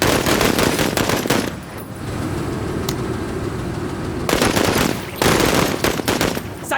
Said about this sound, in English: I'm going to take some more shots with her at range.